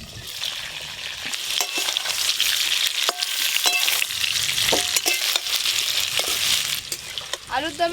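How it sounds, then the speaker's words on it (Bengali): Potatoes for aloo dum sizzle in a pan with salt and turmeric, a steady crackling fry broken by repeated scraping and stirring clicks of a spatula, with brief speech near the end. "লবণ, হলুদ গুঁড়ো, চাপা দিয়ে আলুর দমের আলুগুলো বেশ ভালো করে ভাজবো।"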